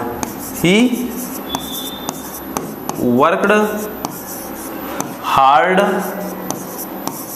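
A pen scratches across paper while a sentence is written out by hand, in short bursts of rubbing strokes between stretches of someone speaking Hindi.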